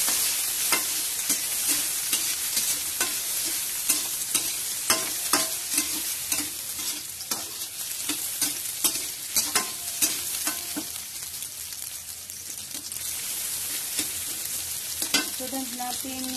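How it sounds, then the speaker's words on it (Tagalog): Chopped onion and garlic sizzle steadily in a hot pan, a continuous close frying hiss broken by frequent sharp stirring clicks, with no voices. "mainit na po yung ating kawali. Ilalagay ko yung sibuyas at saka yung bawang"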